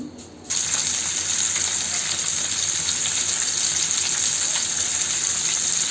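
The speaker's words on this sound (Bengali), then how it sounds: "এখন মাছটাকে আমি ভেজে নিচ্ছি।" Tatkini fish frying in hot oil, a loud, steady sizzle that jumps in after a brief quieter start and holds evenly close by throughout.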